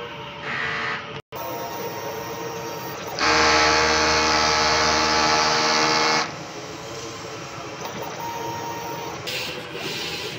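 An inkjet printer running a head cleaning hums and churns steadily, swelling to a louder mechanical whir for a few seconds before settling back to its running drone.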